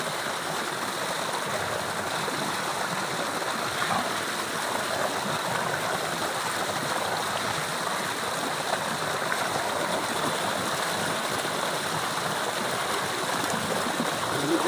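Stream water rushes steadily over rocks in a shallow creek, a continuous close-up flow and gurgle that stays even throughout with no voices.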